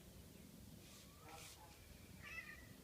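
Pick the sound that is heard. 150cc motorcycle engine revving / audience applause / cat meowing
cat meowing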